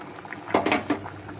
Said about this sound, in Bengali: দেখো বন্ধুরা আমাদের ঝোলটা খুব সুন্দরভাবে ফুটছে